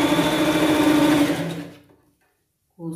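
A sewing machine stitches a pet costume waistband in one loud, close run that winds down and stops, then starts again briefly at the end.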